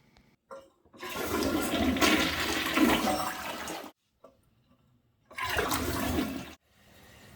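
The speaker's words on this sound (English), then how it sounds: "Then we'll do a test flush and check for any leaks." A toilet gets a test flush right after being newly installed, giving a loud rushing gush for about three seconds, then a short pause and another burst of water as the tank refills, with no talking.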